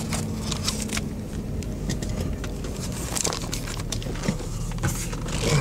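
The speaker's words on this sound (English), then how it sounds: "Daddy's driving out of the parking lot" A car pulls out of a parking lot, its engine a steady, fairly loud rumble heard from inside the cabin, with light rattles and crackles on top and no voices.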